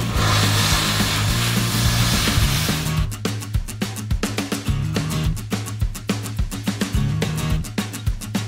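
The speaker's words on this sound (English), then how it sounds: "So I need to just cut that off at another point where it's welded" Welded metal being cut off at a Colorado horse rescue: a steady roar gives way to a rapid, gritty run of sharp cutting bursts, loud and close, with no talking.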